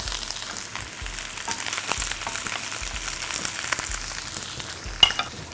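Shredded cabbage sizzles and crackles steadily in a hot pan, cooking in the moisture left from washing, with soft regular thumps from stirring and a sharp clink near the end.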